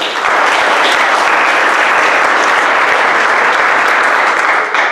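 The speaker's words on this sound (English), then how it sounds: "Give Adam a round of applause." Sustained applause from a sizable crowd at a presbytery gathering, steady and dense clapping throughout with no voices rising above it, ending with a slight fade.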